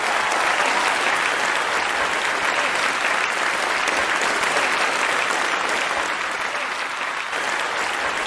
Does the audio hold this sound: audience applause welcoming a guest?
yes